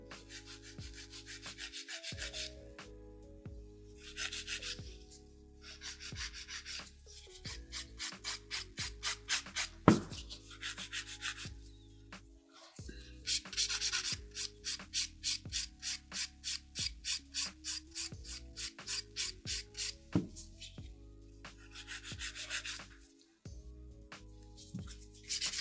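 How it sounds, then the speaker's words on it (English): A 150 grit nail file rubs back and forth over acrylic nails in quick rhythmic bursts of scratchy strokes, close and fairly quiet, with short pauses between sets. "I'm using a 150 grit file, I'm not using a 100 grit file"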